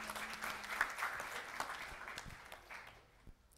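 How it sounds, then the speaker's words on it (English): Audience applause at a Boston panel session of a training clinic, a steady broadband patter of clapping that fades out toward the end of the few seconds. "Yeah, go ahead, clap."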